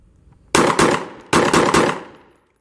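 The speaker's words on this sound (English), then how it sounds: "you'll gauge the target with 5 rounds standing in 4 seconds" A firearm fires a timed shooting-range drill from a standing position, six sharp, loud shots in two quick groups of three with a short gap between the groups.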